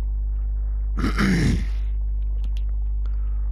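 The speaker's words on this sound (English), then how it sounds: "I do apologise about clearing my throat quite a bit during the recordings." A single rough throat clearing, close and fairly loud, lasting about half a second over a steady low hum, followed by faint clicks.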